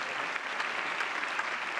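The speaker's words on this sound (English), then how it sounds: "let's give her a round of applause" An audience at a tennis event between Robin Haase and Jan-Lennard Struff gives steady, even applause, a dense wash of clapping with no pauses.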